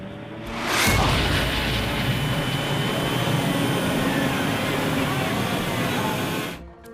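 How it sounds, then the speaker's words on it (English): Aircraft propeller overspeed captured on a cockpit voice recorder: a sudden, loud, continuous roaring wall of noise that holds steady for several seconds, then cuts off abruptly. "It's the sound of the propeller overspeed."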